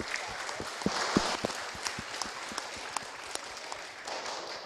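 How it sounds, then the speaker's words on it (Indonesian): An audience at a school orientation launch event claps in applause, faint and somewhat distant, with scattered sharp individual claps over a soft wash of hands. "tepuk tangan untuk"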